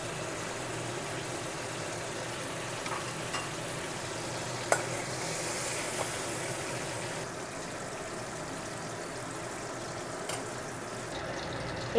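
Ridge gourd frying in oil makes a steady, soft sizzle with a few brief clicks and stirring knocks, heard close and without talk.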